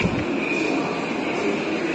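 Steady train station ambience at a Singapore MRT stop, with a continuous rumbling hum and a faint high tonal whine, moderately loud and even with no talking.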